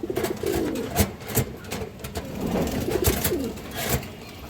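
An Indian high flyer Kaldom male pigeon coos in low, rolling phrases that repeat through the clip, close by, over a background of scattered clatter and noise.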